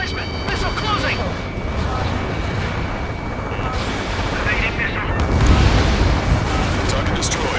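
Explosions and heavy rumbling fill an aerial battle in the Ace Combat 7 video game as a target is destroyed. There is a continuous roar of jets and blasts, with a louder burst near the end and radio voices speaking over it.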